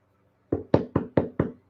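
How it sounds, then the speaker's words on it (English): Five sharp knocks on a wooden door, close and loud in a quick, slightly uneven rhythm after a moment of silence. "So one day, somebody came and knocked on his door."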